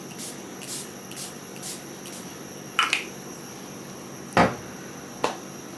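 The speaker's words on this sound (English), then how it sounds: "I want to set my face with the Airbrush Flawless Setting Spray by Charlotte Tilbury. I like to spritz a little bit." Charlotte Tilbury Airbrush Flawless Setting Spray is spritzed onto a face in a few short, sharp hissing bursts spaced apart, close and clear against a quiet room with soft faint rustles between.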